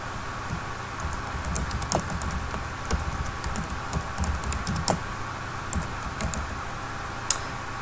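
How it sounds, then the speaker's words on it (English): Steady typing on a computer keyboard, close and clear, with a continuous patter of key clicks and occasional louder taps over quiet room noise. "the first thing you want to do is type your title"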